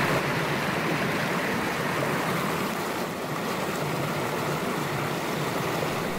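Fast-flowing river current on a section too swift to cross by boat, a steady, dense rushing roar of water that stays loud and unbroken throughout, with no voices.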